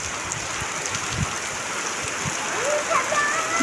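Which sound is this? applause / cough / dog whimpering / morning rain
morning rain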